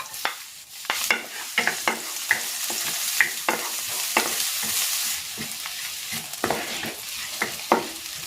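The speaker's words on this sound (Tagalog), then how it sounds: "Maglalagay ako ng cooking oil. Igigisa ko na tong bawang." Garlic sautéing in hot cooking oil, a steady close sizzle punctuated by frequent sharp scraping and stirring clatters of a utensil against the pan, with no talking.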